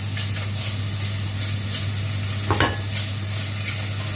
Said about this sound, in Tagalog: At igisa ko pala, guys, yung aking hipon. Igisa ko muna siya.